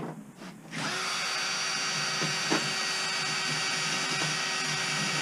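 The weaker of two power drills whirs steadily at close range after a brief start, its high, even motor whine holding constant with faint scraping underneath.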